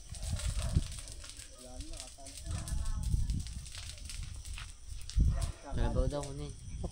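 A water buffalo (carabao) on a rice farm field at night gives low bellowing moos amid rustling and movement, close by, while people talk over it.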